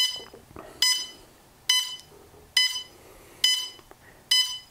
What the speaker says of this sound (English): Now it's going to begin beeping.